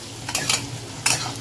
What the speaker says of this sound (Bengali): এবার এর মধ্যে আমি এই পটলগুলো দিয়ে দেবো, কারণ পটলগুলো এর সঙ্গে সঙ্গে ভাজবো